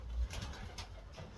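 Pigeons kept in a coop give low, soft cooing, a few murmuring calls close by with no talk over them.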